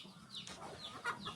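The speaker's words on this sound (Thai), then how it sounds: "อุ้ยไก่" A chicken clucks faintly at a distance in a short series of soft, choppy calls over steady outdoor background noise.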